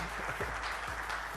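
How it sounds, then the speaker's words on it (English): At an awards gathering, an audience claps for a government minister, a short, steady patter of applause heard at moderate distance over a low hum. "Let's give the minister a very, very warm round of applause."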